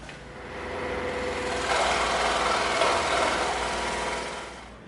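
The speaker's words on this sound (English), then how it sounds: "We're going to take it over to the scroll saw and we're going to cut it out" Scroll saw cutting EVA foam on a tilted table for an angled, tapered blaster barrel, giving a steady close buzzing rasp that swells in the middle and fades at the end, with no talk.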